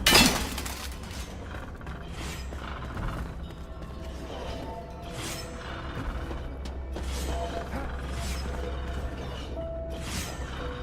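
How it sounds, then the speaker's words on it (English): Clay pots shatter in a video game, a string of breaking and crashing hits over a steady bed of game music and ambience, with no voice over it. "smashing all these pots. But I'm doing it anyway."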